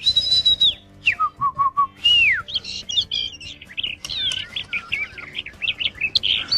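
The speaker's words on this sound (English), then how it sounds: "Hey, a bird!" A cartoon bird chirps in a children's show: loud, close whistled tweets and rapid warbling trills in quick bursts, sounding alone without any talk.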